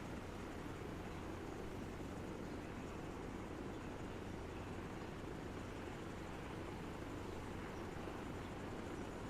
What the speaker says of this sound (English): I'm just gonna land my chopper,